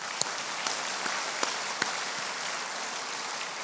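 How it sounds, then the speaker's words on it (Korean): A church congregation claps together at an evening prayer meeting, a dense, even wash of applause held steady throughout, with a few sharper claps poking out. "박수 한번 하겠습니다."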